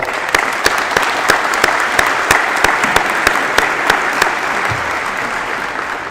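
Sustained applause from a seated crowd at a high school senior awards banquet, steady dense clapping with a few sharper individual claps standing out, continuing throughout without speech.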